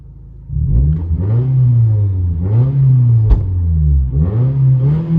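Inside the cockpit of a 2007 Toyota Solara whose four-cylinder exhaust runs through a 12-inch Cherry Bomb glass pack, the engine revs up and settles in three or four loud, rumbling surges with a brief sharp click between them.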